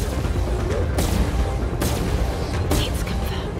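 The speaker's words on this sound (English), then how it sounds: "I'm heading over now to lay down some cover fire." Space combat gunfire in the video game Chorus, loud sustained shooting and booming with several sharp bursts standing out over a dense rumbling bed.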